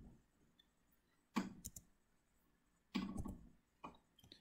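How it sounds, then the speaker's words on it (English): Mouse clicks and keyboard typing on a computer during an Excel spreadsheet session, heard as a few short close bursts of clicking separated by quiet pauses, with no talk. "I'm going to click on this cell. I'm going to type equal to"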